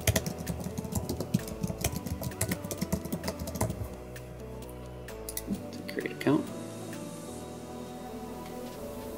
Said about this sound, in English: And then we'll type in our password.